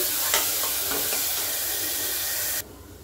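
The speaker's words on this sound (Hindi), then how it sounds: "इसको गोल्डन ब्राउन होने तक भूनेंगे" Chopped onions fry in a pan with a continuous close sizzle and a few stirring scrapes early on, cutting off abruptly near the end.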